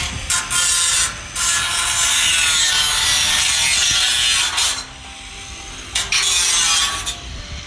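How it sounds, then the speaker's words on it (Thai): Steady, rough sawing through wooden roof purlins on a house construction site, loud and close, with rasping strokes running nearly nonstop and brief pauses. "ช่างก็ทำการตัดแปรอยู่นะครับตอนนี้"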